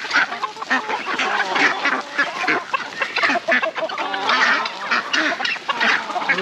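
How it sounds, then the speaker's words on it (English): A noisy flock of ducks quacking continuously on a Jamaican farm, dense overlapping calls close by with some chickens mixed in. "These are the ducks. Ducks and chickens."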